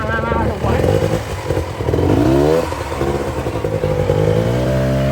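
An enduro motorcycle on a trail ride in Pai, Thailand, as the rider shifts up from first gear: a loud, close engine revs with rising and falling pitch sweeps and a continuous rough mechanical drone.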